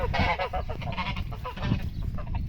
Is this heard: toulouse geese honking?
yes